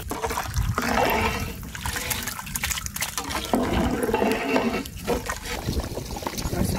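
Water pours steadily onto rice in a pot for chicken biryani, a continuous splashing flow close by.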